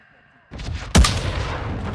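Gunfire from the video game Call of Duty: a sudden loud burst of shots erupts after a quiet start, followed by sustained dense firing and battle noise with no talking.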